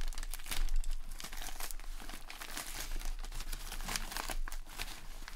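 A well-packed parcel being carefully cut open and unwrapped, with continuous close crinkling and tearing of packing material and no speech.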